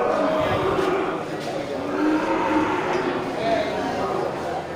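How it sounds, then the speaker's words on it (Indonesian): Cattle low and moo several times amid a busy, noisy crowd at a livestock market in Geurugok, Indonesia, with people talking over the animals throughout. "Ini di depan kita ini terlihat beberapa ekor sapi bakalan super yang punya Tokemin ini sepertinya"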